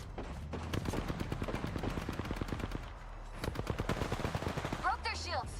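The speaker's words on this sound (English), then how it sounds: "Oh, they're shooting at me." Rapid automatic gunfire from enemies in a video game, with dense bursts of shots that pause briefly and resume, loud and close, while a voice talks underneath.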